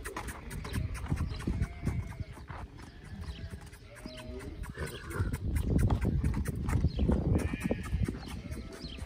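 Horse being worked in a ranch ring, with irregular hoof thuds and footfalls over the dirt, snorts and scattered animal sounds, fairly close and busy across several seconds.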